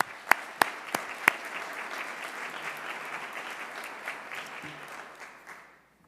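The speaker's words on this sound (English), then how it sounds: "Please, applause for them." A few sharp individual claps start off, then a full audience breaks into sustained applause at a service recognition awards ceremony, steady and moderately distant before tapering away near the end.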